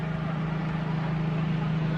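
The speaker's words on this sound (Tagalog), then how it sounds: "Marami na jet ski." Jet ski engine droning steadily on open water, a continuous close motor hum with wind noise, no voices heard.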